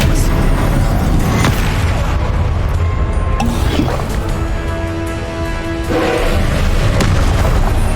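Expelliarmus and other spells fired in Hogwarts Legacy combat, producing a dense, loud wash of booming magical blasts and impacts with no pauses and no talking.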